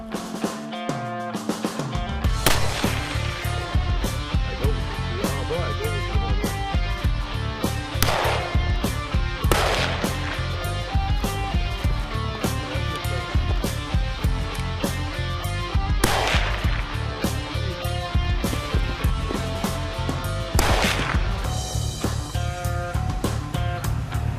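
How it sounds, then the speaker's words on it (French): Hunting rifles test-fired at a range while sighting in before a deer hunt on Anticosti Island, a dense run of sharp, loud gunshot cracks repeating steadily throughout with no speech. "on s'installe, on tire quelques projectiles, voir où est-ce que ça en est avec cet ajustement-là."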